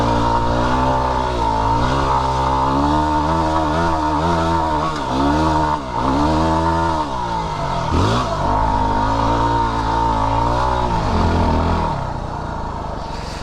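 Yamaha WR250R dual sport motorcycle engine held in first gear, a loud close buzzing drone that rises and falls through several revs before easing off near the end.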